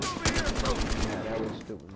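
Rapid gunfire from a Battlefield Hardline team deathmatch rattles in a fast continuous stream, loud and close, trailing off near the end with some background game noise.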